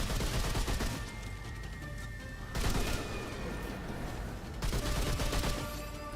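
Sustained rapid gunfire in the Remnant 2 video game, loud and dense, runs as continuous automatic shooting with brief shifts in intensity and no talk over it.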